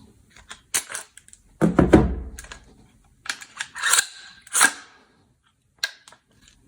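Metallic clicks and a sharp clack of a first round being chambered in an HK416 A5 gas blowback airsoft rifle, a few separate mechanical snaps close up with short pauses between them.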